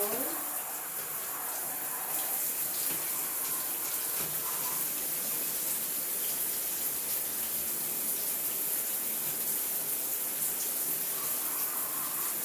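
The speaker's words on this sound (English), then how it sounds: "I'm going to go ahead and rinse this out" Running tap water pours steadily as hair is rinsed out during washing, a continuous close splashing rush with no break.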